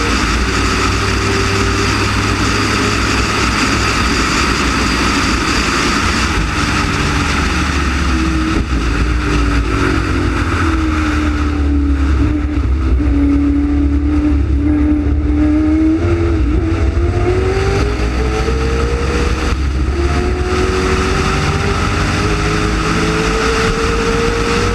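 Race car engines rev and accelerate out of Interceptor corner, turn 3, during a heat race, a loud, steady roar with one engine note sweeping up and down in pitch throughout.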